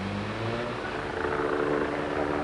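Police helicopter droning overhead in a steady, dense rotor and engine roar that stays loud and unbroken throughout.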